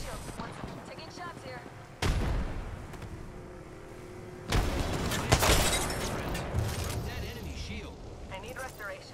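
A frag grenade blast in the video game Apex Legends, heavy booming bursts standing out from continuous gunfire and battle noise, with players talking over the mix.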